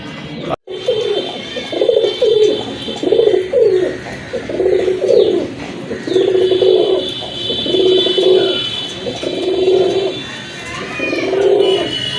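Domestic pigeons coo in a steady repeating rhythm, about a dozen soft low calls close by, with faint birds chirping in the background.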